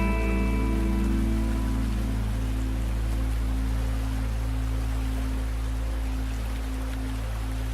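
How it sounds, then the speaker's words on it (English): Steady rain outdoors on a grey, gloomy winter day near a stream, a continuous soft hiss with a low constant hum underneath and no voices. "the weather is quite gloomy, grey skies and sometimes rain"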